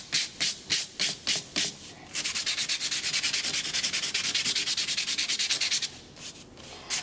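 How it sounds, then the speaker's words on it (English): Sandpaper rubbed over a foam printing block, first in several slow separate strokes, then a long fast run of rhythmic back-and-forth scrubbing, loud and close with no talk. "Really take your time and you want to sand it."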